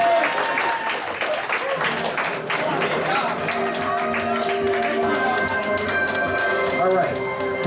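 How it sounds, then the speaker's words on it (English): Applause from a crowd, steady clapping mixed with voices and background music, fairly loud and continuous throughout. "let's give them a round of applause."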